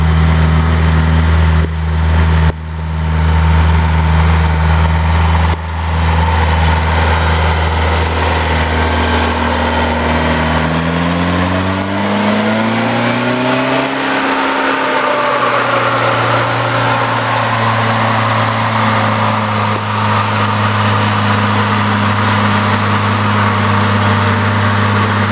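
Heavy bulldozer-like engine running close and loud, a deep steady idle drone whose pitch sweeps up and back down in the middle before settling into a lower steady rumble.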